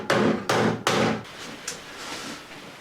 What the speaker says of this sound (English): hammered the flange back over the repair